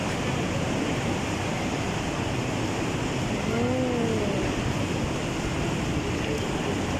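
Strong wind roars steadily outdoors during a storm, a loud continuous broadband rush like surf that never lets up; a voice briefly exclaims partway through.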